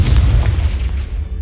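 A Confringo spell explosion in Hogwarts Legacy, a heavy booming blast with deep rumbling low end that rolls and fades over a second or so, with no talking.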